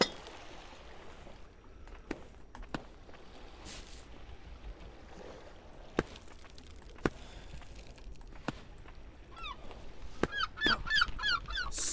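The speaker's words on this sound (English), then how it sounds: "Oh, I hope these birds never make a return." Geese honking close by at a climbing wall, a run of repeated calls near the end over a hushed outdoor background with a few sharp clicks and knocks scattered through.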